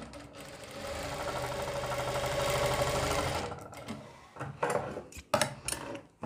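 An electric sewing machine stitches lace onto fabric for a neck design, whirring steadily and close for about three seconds before stopping, followed by several sharp handling clacks and taps.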